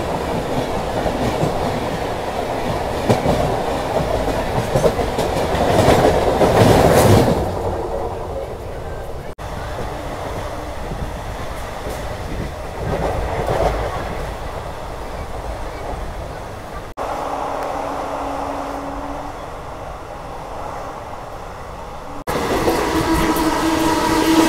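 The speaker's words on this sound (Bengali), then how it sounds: "ট্রেন কিন্তু ভালো স্পিডে দৌড়াচ্ছে" A passenger train on the Kolkata to Puri route runs at speed, heard from inside the carriage as a steady loud rumble and rattle of wheels on track, with surges and a brief tonal hum.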